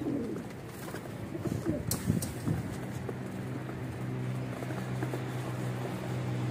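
Several pigeons coo steadily close by, their low rounded calls repeating and overlapping, with occasional soft clatter and rustling of birds being handled or shifting around.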